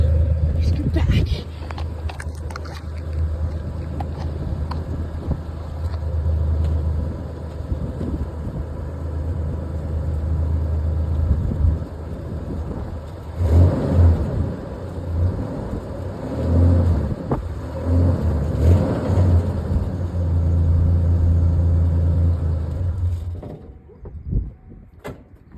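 A 1988 Ford Ranger with a newly fitted exhaust tip idles and revs in a series of deep rumbling bursts, close and loud, while someone talks over the engine before it cuts off near the end.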